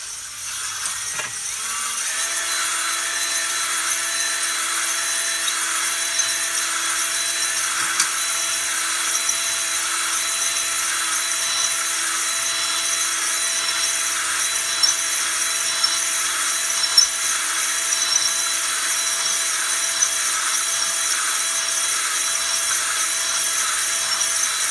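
A brand-new medium-grit hone spins inside an engine cylinder, giving a steady, high, gritty whirring drone that runs unbroken throughout, close up and alone.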